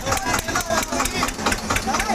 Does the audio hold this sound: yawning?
no